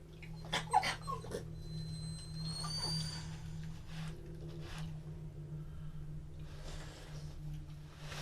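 Small dogs whimpering and whining in high-pitched bursts, upset by loud bangs elsewhere in the house, with a few brief sharp noises and a constant low hum in the room.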